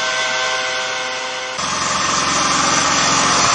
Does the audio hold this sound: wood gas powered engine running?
yes